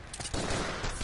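An enemy's gunshot in Final Fantasy Type-0 HD, a short, harsh burst of noisy blasts filling the whole second, loud and dense without voices.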